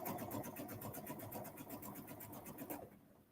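Sewing machine running a rapid zigzag stitch on swimsuit fabric with slightly stretched elastic, a quick even mechanical chatter that runs steadily and then stops abruptly near the end.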